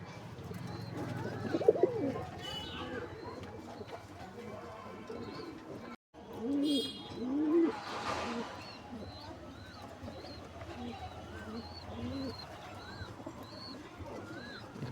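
Pigeons, including a male and a pair of Madras and Malwai fancy birds, coo in low murmuring bursts in a loft, with louder calls around the middle and someone talking nearby through much of it.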